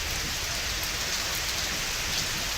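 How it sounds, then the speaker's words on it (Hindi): Heavy rain pours down in an unbroken, dense roar that stays loud and even throughout, with no voices. "तेज बारिश से जनजीवन प्रभावित है"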